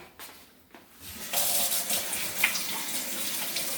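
A tap turned on to wash hands, starting with a few quiet clicks and handling sounds, then a steady close rush of running water that continues to the end, with no talking.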